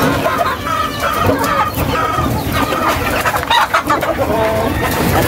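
Several chickens cluck and squawk close by in a busy, overlapping chorus, with some background chatter mixed in.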